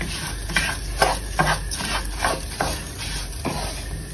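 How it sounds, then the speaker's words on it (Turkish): Bulgur roasting in a pot with butter is stirred with a utensil, giving soft scraping and rustling strokes at an irregular pace over a faint sizzle, close up with no voices. "Biraz kavurup tuzunu ve tereyağını ekleyeceğim."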